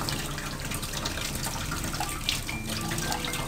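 Cold tap water runs steadily over cooked rice being rinsed for Chinese-style chicken fried rice, a close continuous splashing rush with small drips and clinks.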